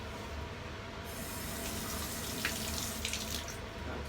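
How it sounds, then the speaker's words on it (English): Hands being rinsed under a running kitchen tap to wash off salt, a steady close hiss of flowing water that swells after the first second and carries on to the end, with light splashing bursts and no voices. "Let me just rinse my hands to get the salt off."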